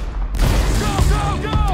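Loud gunfire in the Battlefield Hardline video game, a sharp blast followed by booming, echoing shots and metallic ringing, with voices talking over the noise.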